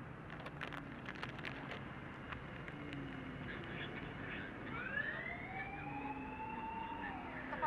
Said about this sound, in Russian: Это пожарная. Это не скорая.